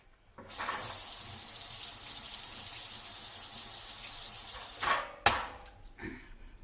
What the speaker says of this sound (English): Let me wash my fork.